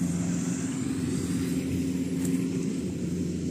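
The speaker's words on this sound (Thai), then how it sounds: "วันนี้มาอยู่กับคูบตาดีซี่70ครับเป็นรถเกี่ยวชนชาติญี่ปุ่นครับพี่น้อง" A Kubota DC-70 combine harvester runs in a rice field, giving off a steady, low engine drone at moderate distance, with no talk over it.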